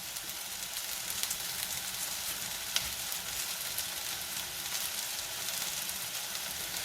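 Onions with freshly grated garlic, cooking as a moussaka base, sizzle in a pan with a steady, even, close hiss that carries on throughout and has a few faint pops.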